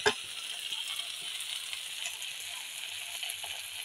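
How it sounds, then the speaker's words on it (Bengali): Potatoes just dropped into hot oil in a pan, starting with a sharp splash, then a steady close sizzle with light rattling spatters throughout, no talking. "তেল দেওয়া আছে, যে আমি আলুগুলো দিয়ে দিচ্ছি"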